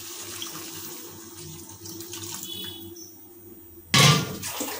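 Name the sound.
water poured into chicken ghugni curry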